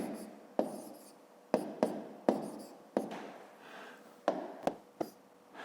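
Pen or chalk writing out a column multiplication for a fifth-grade math exercise: several distinct tapping strokes with scratchy trailing scrapes between them, close and clear, no voices.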